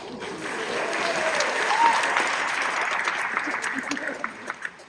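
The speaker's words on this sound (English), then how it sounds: "thank you for the applause" A Comicpalooza Houston convention crowd claps during a Q&A panel, a broad wash of applause that swells and then thins into scattered claps near the end.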